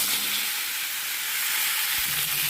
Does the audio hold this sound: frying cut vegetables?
yes